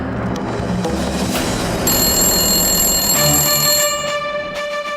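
A telephone rings with a loud, bright electronic trill that rises partway through and keeps going for several seconds, heard close and without any voices over it.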